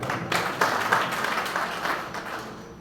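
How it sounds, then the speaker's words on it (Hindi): Applause from an audience at a National Union of Journalists India executive gathering in Lucknow, honouring a guest's birthday; a steady, dense wash of clapping held at an even level throughout. "हैप्पी बर्थडे अगेन तालियां बजाएं"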